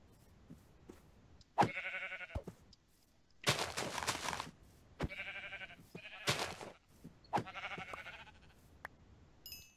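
Sheep in a video game bleating in several loud, wavering calls at close range, separated by short quiet gaps and a few sharp clicks.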